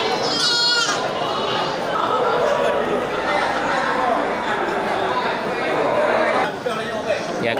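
Female goats bleat at a livestock market in Bireuen, with a short bleat near the start and more calls mixed into the crowd chatter, while someone talks close by throughout.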